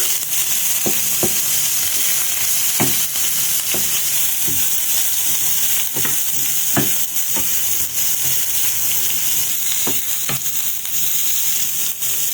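Chicken gizzards sizzle and fry with pepper in a pan, a constant crackling hiss punctuated by sharp clinks and scrapes of a utensil stirring, close and fairly loud without talk.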